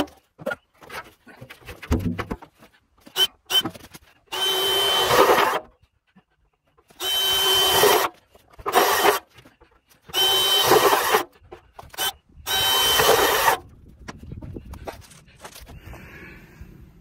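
Power drill boring four holes into a metal burn barrel, loud close whining bursts of a few seconds each separated by silences, with short clicks and handling noise between runs.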